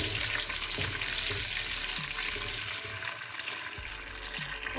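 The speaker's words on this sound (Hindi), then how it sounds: "इसको हल्का सा फ्राई कर लेंगे।" Raisins and cardamom seeds fry lightly in a pan for jaggery rice, giving a steady, close, hissing sizzle with a few faint knocks from stirring and no talking.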